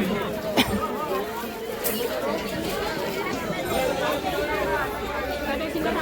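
A dense crowd fills the busy Saturday market in Manor with constant overlapping chatter, many voices near and far blending into a steady hubbub, with one brief sharp knock early on.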